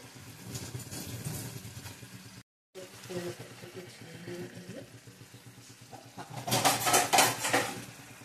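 A lid is set over a pot of Bombay duck fish jhuro cooking with mustard oil and coriander, bringing metallic clinks and clatter against a soft sizzle, with a voice talking at times and a brief silent gap.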